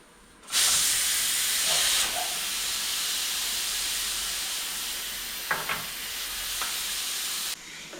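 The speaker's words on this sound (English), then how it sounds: "I think our beef is ready, so I want to start frying the beef." Steady loud hissing sizzle of beef frying in a pan, starting abruptly and continuing evenly, with a few faint clinks near the end.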